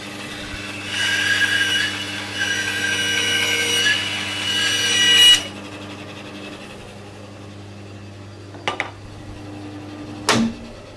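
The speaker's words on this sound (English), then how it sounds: "Now, why am I using a bandsaw instead of the table saw?" A bandsaw rips through short pieces of timber in a loud, sustained cut lasting several seconds, then the motor hums on quietly with a couple of brief knocks as offcuts drop.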